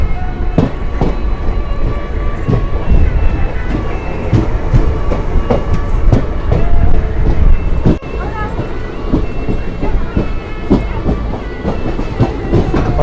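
A sleeper class coach of the Ahmedabad–Jammu Tawi Express rolls along with loud, continuous rumbling and rhythmic clickety-clack of wheels over rail joints, wind buffeting the microphone, and people talking within the carriage.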